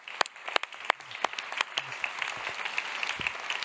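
Audience applause at an evening event presenting an emotions city map of Berlin, a dense crowd clapping with sharp individual claps standing out, steady and moderately loud with no talk over it.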